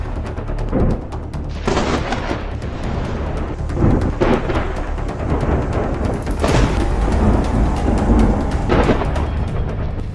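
Heavy rain pours steadily through a thunderstorm, with loud rolling thunder booming repeatedly across it, several cracks standing out over the constant downpour.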